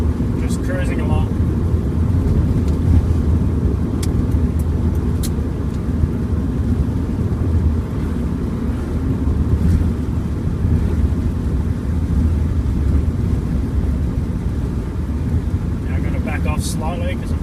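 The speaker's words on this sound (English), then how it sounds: "this is 100 kilometers an hour at an even throttle" A Subaru with a turbocharged EA82T engine on Megasquirt MS3x management cruises at 100 km/h on an even throttle. A steady low engine drone and road rumble mix with wind noise throughout, with no sharp changes in pace.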